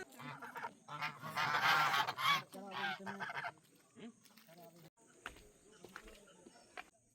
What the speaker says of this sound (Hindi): डक्स भी हैं यहाँ पे ये सारे।